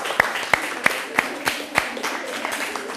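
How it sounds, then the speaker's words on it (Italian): An audience applauds with a handful of distinct, evenly spaced claps, about six close and crisp ones, that then thin into softer, scattered clapping over three seconds. "fatevi un applauso"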